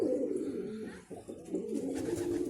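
Pigeons in a loft coo continuously in deep, warbling phrases, near and steady, with one short dip in the middle and no speech.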